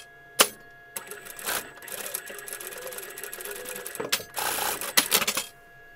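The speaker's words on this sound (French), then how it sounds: "Vous allez coudre l'épaule." A sewing machine sews the shoulder seam of a rag doll's dress in short bursts of rapid mechanical stitching, with sharp clacks and pauses between runs, heard close.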